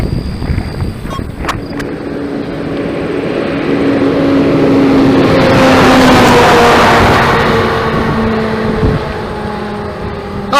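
A truck passing on a road heavily used by trucks, its engine rumble swelling to a loud peak midway and then fading away, with wind noise throughout.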